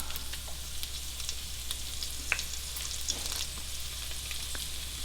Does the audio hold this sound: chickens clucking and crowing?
no